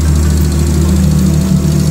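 A classic Honda CB 100 motorcycle engine running close by, a loud steady low throb with an even rhythm and no voices.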